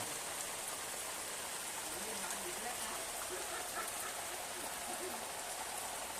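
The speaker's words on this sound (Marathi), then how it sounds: "आता मुसळधार पाऊस पडलेला आहे." A heavy unseasonal downpour drums steadily on a Konkan farmyard, an even, unbroken wash of rain with faint murmuring underneath.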